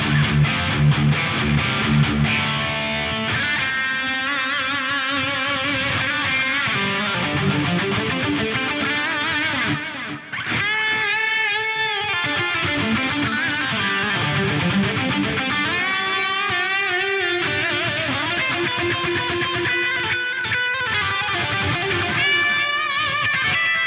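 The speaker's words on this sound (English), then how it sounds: "That's an epic sounding reverb and delay" An electric guitar played through an Axe-Fx III with a big plate reverb and delay, sustained notes and chords ringing into dense, washing echo tails throughout.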